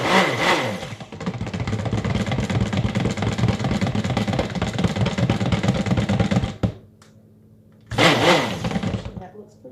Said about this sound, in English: let's go ahead and stick blend the white first